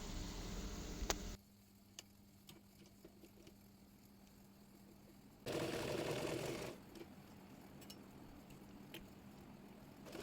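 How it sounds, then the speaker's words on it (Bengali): A sewing machine runs in one loud burst of stitching on the body of a baby girl's cotton summer frock, set among quieter ticking and handling sounds. "এরপর বডি পার্টটি সেলাই করে নেব।"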